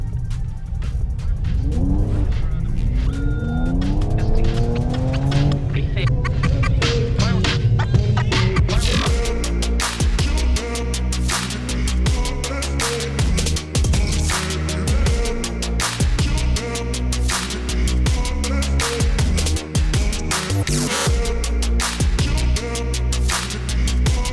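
A Mercedes-AMG E-class engine revving hard and accelerating, loud and close, its rising tone climbing through gears with a rough mechanical edge.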